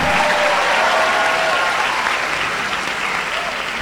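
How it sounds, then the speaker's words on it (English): An audience at a student leaders' conference opening ceremony breaks into loud, sustained applause, a dense wash of clapping close by that holds steady throughout with no talk over it. "And let's give another big round of applause to our guest of honor, Bahagia Dato' Sulaiman bin Wak"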